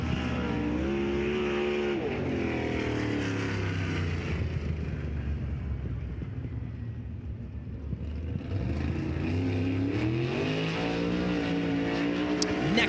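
A winged sprint race car on a qualifying lap at Lucas Oil Speedway, a loud, continuous engine roar that dips in pitch mid-lap and climbs again as the car accelerates down the straight.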